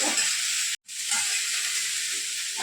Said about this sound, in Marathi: आणि आता तांदळाला तेलामध्ये परतवून घेऊया